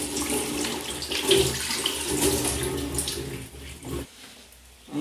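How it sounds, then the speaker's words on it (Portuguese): Water runs steadily from a tap in a home kitchen while a bottle is rinsed and filled, a close, continuous splashing stream that briefly shifts and pauses near the end. "E você usou ainda um pouco da água pra poder lavar a garrafa"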